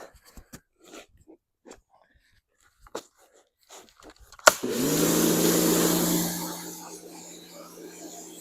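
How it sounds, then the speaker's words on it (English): A compressed-air blow gun gives a loud, close hiss as it blows off a cylinder head from a 440 Mopar V8 engine rebuild, following a few clanks and handling noises, then fading away. "we're gonna hit it with the air compressor"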